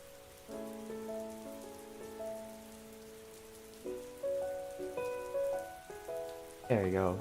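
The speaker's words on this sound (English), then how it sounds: "I like rain sounds a lot." Rain patters steadily on a surface, a soft continuous wash with gentle melodic tones ringing above it and a brighter rising sweep near the end.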